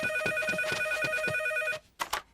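A telephone bell rings loud and close in a French cartoon, a steady shrill trill for almost two seconds before it stops, followed by a short burst of noise.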